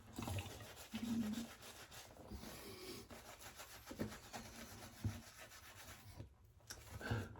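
A safety razor makes a shaving pass, a soft, close scraping rub that repeats in short strokes with no talk over it.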